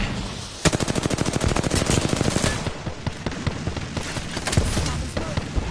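Rapid automatic gunfire in the video game Apex Legends, with dense bursts of loud shots crackling close and steady, then continuing in more scattered volleys with faint voice underneath.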